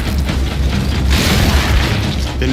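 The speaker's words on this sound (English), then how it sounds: "The Nasher is going to get you the most satisfying shots, covering you in blood." Nasher shotgun blast in the Gears of War: E-Day video game, a single loud booming shot with mechanical clatter, heard alone and up close.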